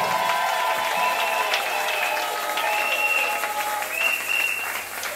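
A church congregation applauds and cheers loudly, steady dense clapping that fills the space with bright ringing tones over it, no speech heard.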